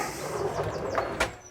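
A soft-close drawer in a teardrop trailer slides shut with a smooth rolling whoosh, slowing as it closes and ending in a soft, muffled stop.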